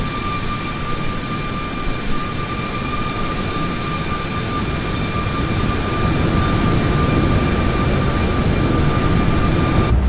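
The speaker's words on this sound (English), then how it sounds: "So here's the external engine sound on climb" A loud, steady Boeing 737 MAX 8 jet engine roar heard externally during climb in a flight simulator, with a high whine running through it, holding constant and building slightly toward the end.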